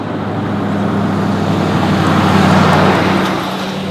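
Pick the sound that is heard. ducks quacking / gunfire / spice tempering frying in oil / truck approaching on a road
truck approaching on a road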